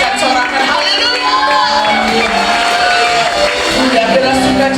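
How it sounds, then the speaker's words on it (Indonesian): Church congregation at a Sunday worship service applauding and cheering hallelujah, a loud sustained crowd roar of clapping, shouts and whoops with voices rising and falling together throughout. "Boleh tepuk tangan yang dahsyat, sorakan haleluya."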